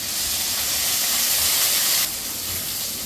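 Quarter kilo of okra frying in a hot pan for a Tamil New Year dish, a steady loud sizzling hiss that runs continuously and eases slightly near the end, with no talking.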